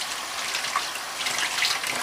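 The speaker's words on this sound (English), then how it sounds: "See, now I'm done, so I'm rinsing it out with cold water." Cold tap water runs steadily as wet-felted wool is rinsed under it, a close continuous splashing gush with no talking.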